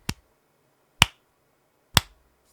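Exactly three slow, spaced golf claps, each a single crisp close clap about a second apart against silence.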